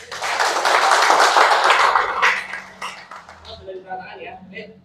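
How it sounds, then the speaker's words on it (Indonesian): Audience applause breaks out after a village election committee chairman finishes an announcement, a dense burst of clapping that swells loud and then thins out and fades over several seconds. "Tepuk tangannya."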